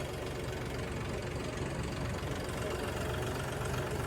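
Low, steady engine of a new John Deere 5210 tractor idling with a rough knocking rumble, close and continuous throughout.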